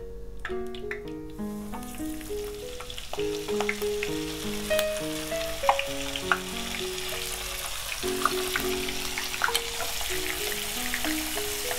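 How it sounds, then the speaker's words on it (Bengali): Prawns dropped into hot oil sizzle and fry steadily at close range, a continuous loud crackling hiss with a soft musical tone running underneath throughout. "আমাদের তেলটা গরম হয়ে গেছে, এখন আমরা চিংড়িগুলো তেলে ছেড়ে দিব।"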